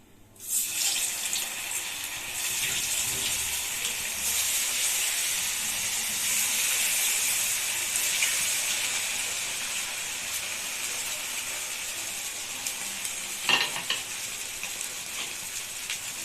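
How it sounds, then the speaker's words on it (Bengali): Semolina chops frying in hot oil give a loud, steady broadband sizzle that fills the whole stretch, with a brief sharper crackle burst near the end and no voices. "তেলটা এবার গরম হয়ে গেছে এবার আমি একটা একটা করে এর মধ্যে দিয়ে দেবো"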